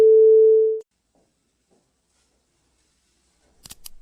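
A single steady telephone call tone sounds loud and clear for under a second while a phone is dialled, then cuts to silence before a brief faint clatter at the end.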